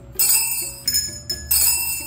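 A bell rings in three or four bright, clear strikes, each ringing out briefly before the next, loud and close, with no talk over it.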